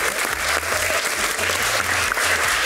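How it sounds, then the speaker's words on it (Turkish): A Turkish TV quiz show's studio audience breaks into steady, dense applause, loud and continuous throughout with no pauses. "Bravo, bir moral alkışı."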